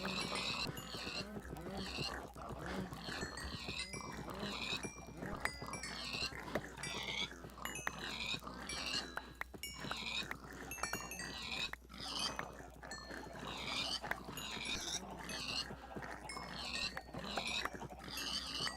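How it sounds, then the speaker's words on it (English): A crowd of Minecraft pigs in a crowded breeding pen grunts and oinks over and over, many overlapping calls at a low, steady level, with the occasional hint of other farm animals. "So many pigs. I let this get out of hand."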